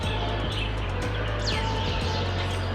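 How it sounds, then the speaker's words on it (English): Birds chirp in a park along the Nanming River, a few short tweets and one quick descending call standing out above a steady low hum of background noise. "And also the sound of birds tweeting."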